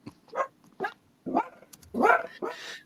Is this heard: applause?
no